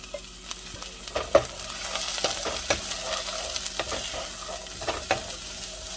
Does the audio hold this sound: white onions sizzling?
yes